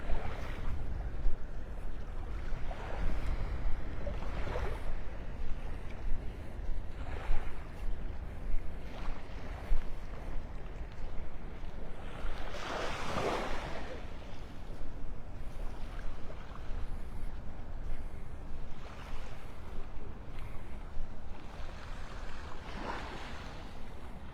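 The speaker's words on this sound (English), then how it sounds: "now that breeze is blowing once I get past all of those trees" Steady wind rushing across an open beach at Delnor-Wiggins in North Naples on an early morning, with surf washing underneath and a few louder gusts swelling through the long, continuous blow.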